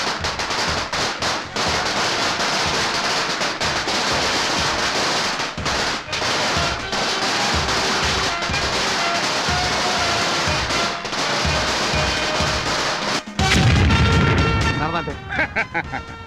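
A long string of firecrackers bursts in a film scene, rapid crackling pops in dense irregular volleys, loud and close, ending in a heavier blast, with voices talking over them.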